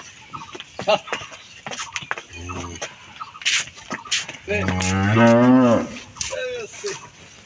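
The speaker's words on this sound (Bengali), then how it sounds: "গরুটা দেখেন, বিশাল গরু।" A large cow, about six teeth in age, moos loudly and long at close range, with a shorter low moo earlier and someone talking around it, plus faint farmyard fowl.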